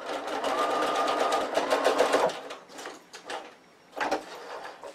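Sewing machine running a short locking stitch on a zip pouch: a close, rapid mechanical chatter for about two seconds, then quieter handling noises and one more short burst of stitching.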